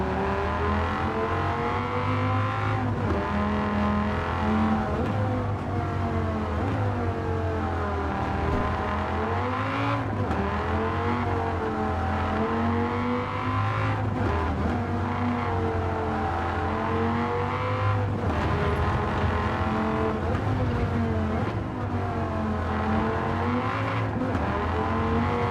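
Dodge Viper race car engine in Gran Turismo 7 at Road Atlanta, a loud continuous V10 drone rising and falling through gear changes and corners with occasional tire noise, heard throughout without talk.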